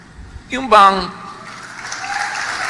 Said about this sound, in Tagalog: talaga, may mga palakpak pa yan.